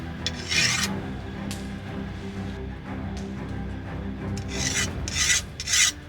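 A hand file rasping along the edge of a chainsaw bar being dressed, close and loud, with several separate scraping strokes, some short and some longer, over a steady background hum.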